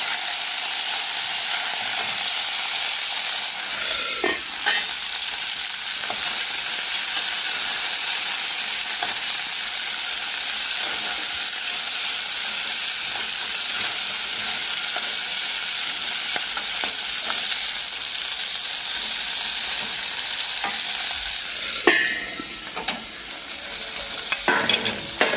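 Food stirred while it cooks in a pan, a loud continuous sizzle with occasional scraping strokes and utensil knocks, close and steady for a long stretch.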